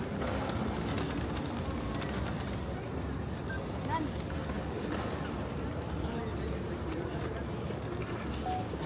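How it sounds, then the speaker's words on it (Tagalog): A large flock of pigeons in a busy outdoor city setting in Perth, Western Australia, with soft cooing and wing flutters blended into a steady crowd and traffic murmur, voices nearby throughout. "Sa sobrang dami ng kalapati po yan."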